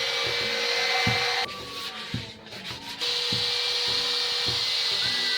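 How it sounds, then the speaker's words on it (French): A power sander whirs steadily against a wooden tree stump with a rubbing hiss, dipping briefly in the middle before resuming at full strength. "Aujourd'hui, on ponce avec la méga ponceuse."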